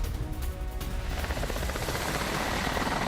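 Military attack helicopter in a Russian drill or strike, its rotor and engine giving a steady, loud, broadband roar with rapid chopping texture that runs continuously throughout.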